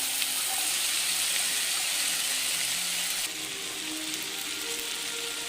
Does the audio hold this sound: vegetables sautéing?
yes